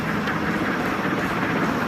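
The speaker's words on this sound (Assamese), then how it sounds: "তো ট্ৰেইন আহি আছে" A continuous broadband roar of an approaching train fills the clip, steady and fairly loud, with no voices.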